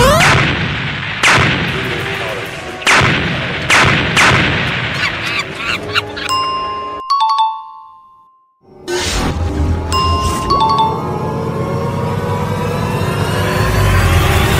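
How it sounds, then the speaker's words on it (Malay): Gunfire in the Roblox Brookhaven video game, a rapid series of loud sharp shots with electronic tones, then a short lull before more shooting and game effects resume. No one speaks. "Jom tembak dia."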